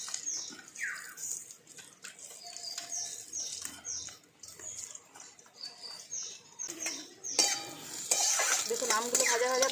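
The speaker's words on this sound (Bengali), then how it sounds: "একটু জল দিয়ে ভালো করে গুলিয়ে নিচ্ছি" Ground mustard paste with salt, turmeric and a little water being stirred by hand, giving soft scraping and light clinks against the vessel, close and irregular amid faint background noise.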